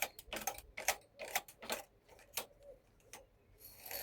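Knitting machine carriage and needles being pushed back into working position while preparing to knit an adult beanie, giving a run of sharp mechanical clicks and ratcheting ticks in quick irregular bursts, close and moderately loud.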